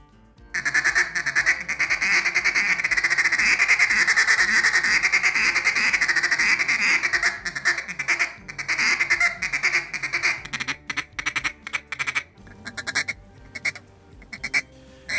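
A duck call works through a blended run of rolling, stuttering and broken feed calls, loud and close, mimicking many ducks on the water; a dense honking stretch gives way to choppier, clipped bursts near the end.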